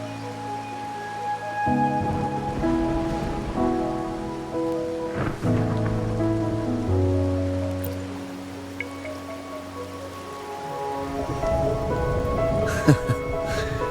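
Rain falls in the video game Wuthering Waves as a soft, steady wash beneath sustained musical tones, with a brief crackle near the end.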